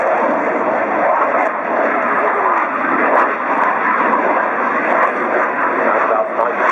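Aircraft making a slow, low pass at about 95 knots at the 2010 Farnborough Air Show, a steady engine roar holding at high loudness throughout, with crowd or voices faintly mixed underneath.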